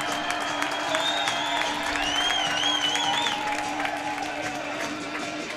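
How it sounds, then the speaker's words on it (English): A hockey arena crowd applauds and cheers at a college game, a steady wash of clapping with scattered whoops and whistles, with voices talking underneath. "As the crowd applauds."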